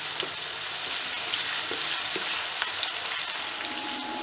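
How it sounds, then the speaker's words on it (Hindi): Onions and garlic sizzle in a pan while browning lightly for chicken keema, a steady close hiss scattered with small pops and crackles, with no one speaking. "प्याज को हम हल्का सा ब्राउन करेंगे"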